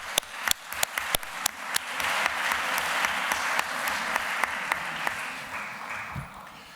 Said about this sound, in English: we should applaud them